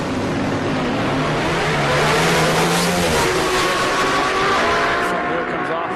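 A drag racer makes an NHRA qualifying pass at Reading, its loud sustained engine roar filling the whole stretch at close range, with announcer commentary running underneath.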